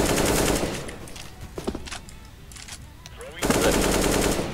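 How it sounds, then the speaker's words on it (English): SMG gunfire in a video game featuring Hanzo and Widowmaker, loud rapid automatic bursts at the start and end with a quieter gap between. "SMG."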